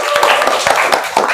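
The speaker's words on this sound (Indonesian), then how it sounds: "Ya boleh, tepuk tangan." A classroom of students claps for a classmate at a teacher's invitation, a short burst of dense, overlapping hand claps with some voices mixed in.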